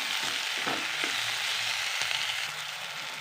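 Onion and tomato frying in a pan, giving a steady close sizzle with a few faint stirring clicks.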